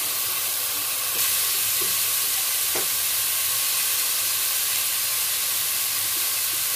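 Garlic and lemongrass hit a hot pan, giving a steady, close hiss of frying that stays level throughout, with a couple of faint clicks of utensils and no talking.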